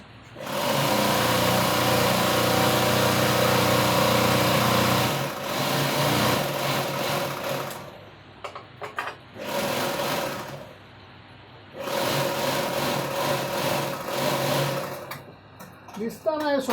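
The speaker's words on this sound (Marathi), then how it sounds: "इथे तो आता कपडे फिनिश झाल्यावर इंटरलॉक मारतो आहे तिथे आणि हे स्पेशल इंटरलॉकचं मशीन आहे" In a small clothing boutique, an interlock overlock sewing machine finishes garment edges in loud, close, sustained whirring runs that stop and restart several times, with people talking in the background.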